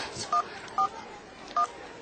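Three short touch-tone dialing beeps sound on a telephone in a radio drama, clear and evenly spaced, over a low background hiss.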